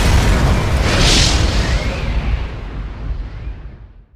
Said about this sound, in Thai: แรงระเบิดมันอาจจะแรงหน่อยนะฮะอาจจะดังนิดนึง